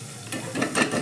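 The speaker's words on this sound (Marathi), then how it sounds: "वरणाला फोडणी टाकू" Spices crackling in hot oil for a Maharashtrian dal tempering with cumin, mustard seeds, curry leaves and coriander-garlic paste, a soft steady sizzle with bursts of louder spattering toward the end.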